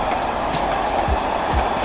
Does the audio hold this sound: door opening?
no